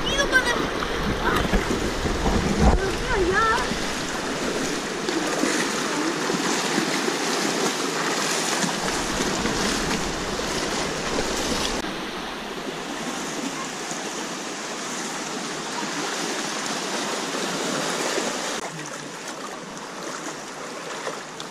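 River stream rushing steadily through the Zion Narrows in Utah, a continuous broadband wash of flowing water, loud and close throughout.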